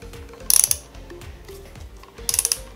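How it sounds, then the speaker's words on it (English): Two quick bursts of ratchet clicks come from a wrench loosening bolts on a Honda Africa Twin motorcycle, each a rapid run of close, crisp metallic ticks with a short pause between. "I'm gonna loosen up a couple of bolts here"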